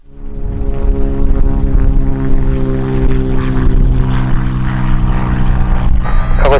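Airliner taking off in heavy wind at Kagoshima Airport, a loud, steady engine roar with strong tonal harmonics holding near and constant throughout, with a brief higher whine at the end.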